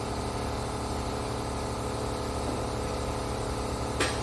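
An air compressor runs steadily at close range in a garage during work on a classic Econoline pickup truck, a constant mechanical drone with a brief sharp click near the end.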